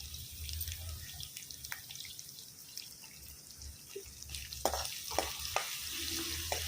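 Two chillies frying in hot oil for a tempering over a husk-fuelled stove, giving a quiet, steady sizzle with scattered pops and crackles that grow a little busier toward the end.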